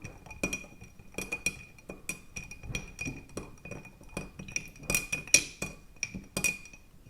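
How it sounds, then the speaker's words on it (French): Old Fashioned cocktail stirred with a metal mixing spoon in a glass, giving a steady run of close, bright clinks and ice rattles for several seconds with no talking. "Donc, avec la cuillère à mélanger, on va mélanger le tout."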